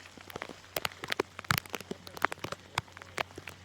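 Scattered drops of rain pattering on a hard surface, irregular sharp taps over a quiet background.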